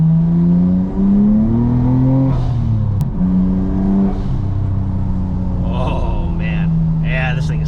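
A Nissan GT-R with a custom track exhaust revs and accelerates through rising and falling gear pulls, its loud exhaust note heard up close with the windows down on wet pavement, and a voice speaks briefly over it.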